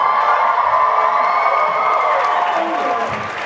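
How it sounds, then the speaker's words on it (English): A large VidCon audience at a panel erupts in loud, continuous cheering and applause, with whoops and shouts layered over the sustained crowd roar, tapering slightly toward the end. "the applause is not for me"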